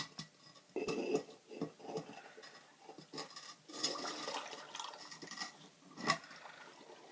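Water poured into a crock packed with shredded food for compiche (fermented beet/turnip sauerkraut), weighed down with two large stones; close splashing and trickling pours in several bursts with clinks, no talk.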